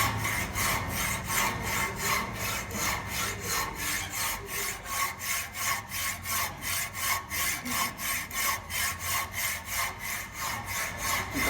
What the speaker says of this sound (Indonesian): Gergaji hingga besi terpotong.